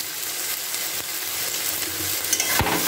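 Red amaranth greens with poppy seeds and turmeric being stirred and fried in a pan, giving a soft continuous sizzle and scraping at close range, with no talk.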